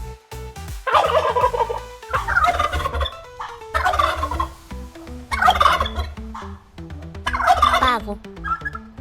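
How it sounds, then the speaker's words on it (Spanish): A turkey gobbles loudly in five separate rattling calls spaced about two seconds apart, close and clear above soft background music. "Este es un pavo."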